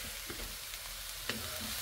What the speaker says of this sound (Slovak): No a dobre orestujeme.